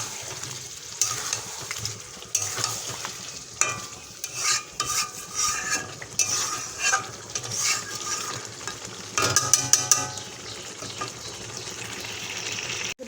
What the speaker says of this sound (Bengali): আলু ভেজে রাখা আলু এবার ভালো করে কষাতে হবে।